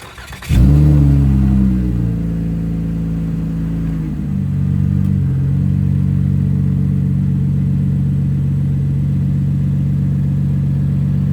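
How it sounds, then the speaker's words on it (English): A car engine starts and settles into a steady, loud idle nearby as the car slowly backs up in a driveway after its wheels were sprayed with glossy Plasti Dip, the low rumble holding even throughout. "I'm gonna back up the car about a quarter of the way"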